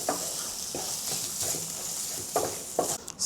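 Minced pork being stirred in a pan with garlic and ginger, a soft steady sizzle with intermittent scraping strokes of a spatula, close and moderately loud.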